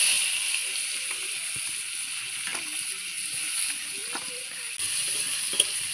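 Sliced onions sizzle steadily in hot oil seasoned with reddened panch phoron, a constant close frying hiss with a few faint clicks of a utensil against the pan.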